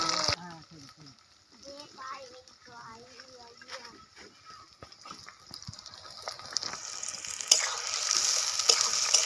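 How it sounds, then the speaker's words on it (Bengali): Bay leaf, dried chilli and chopped onion fry in hot oil, a steady sizzle that grows louder and brighter toward the end, with spoon stirs and a voice talking over it early on. "তেল গরম হয়ে গেছে, দিয়ে দেবো তেজপাতা, শুকনো লঙ্কা। দিয়ে দেবো পেঁয়াজ কুচি।"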